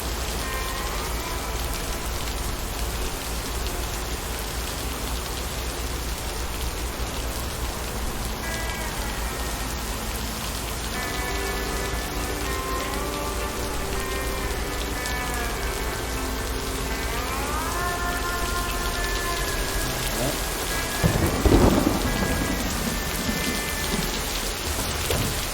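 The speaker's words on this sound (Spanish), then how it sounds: "esta tormenta, estas nubes no son normales" Heavy rain pours steadily in a video game storm, a loud continuous wash with rolling thunder and a sharp close crack near the end, over faint tonal game music, with no talk.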